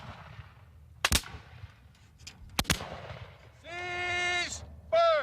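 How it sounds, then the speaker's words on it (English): Two sharp, loud musket shots ring out about a second and a half apart as a Civil War company fires by file outdoors, followed by a shouted, drawn-out command voice. "For a constant, sustained fire, they fire by file."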